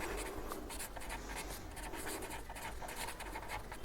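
Pen writing an accountancy entry on paper, a faint, close scratchy scribble in short strokes and pauses over a quiet background.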